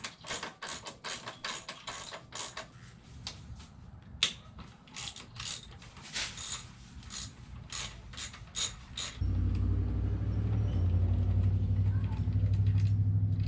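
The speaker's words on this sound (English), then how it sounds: "I'm going to start with this 19mm bolt and then this 12mm bolt." Rear-set bolts, 19mm and 12mm, being loosened and removed from a Honda Grom motorcycle, giving rapid ratcheting clicks and metal mechanism sounds at close range; a steady low hum takes over in the final seconds.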